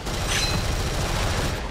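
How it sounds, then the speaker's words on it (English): Explosions and gunfire in the shooter video game Gunfire Reborn form a loud, dense wall of continuous booming and firing that stays constant throughout, with no clear pauses. "Explosions and fire."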